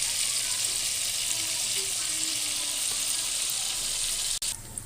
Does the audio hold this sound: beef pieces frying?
yes